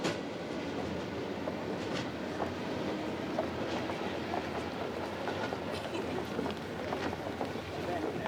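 A train on the Trans-Siberian Railway near Vladivostok runs steadily throughout with a continuous rumbling roar and faint rhythmic clatter of wheels on track, loud and close.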